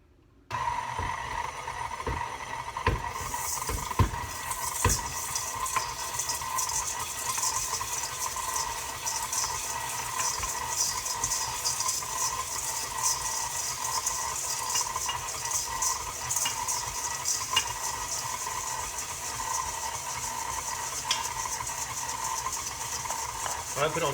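An electric mixer kneading seeded sourdough while nuts are added: a steady motor whir with rhythmic churning runs without a break, and a few clunks and knocks come near the start.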